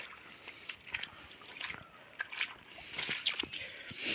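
Runoff water from a ginger plantation flows and sloshes during heavy rain, a soft uneven trickling and splashing that swells toward the end, faint and fairly close.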